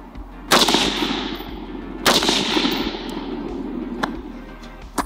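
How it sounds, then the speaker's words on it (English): Two loud, close 308 Winchester rifle shots from an AR-10 fired at bulletproof glass outdoors, about 1.5 seconds apart, each a sharp crack followed by a long decaying echo. "last but not least, we've got 308 Winchester out of an AR-10."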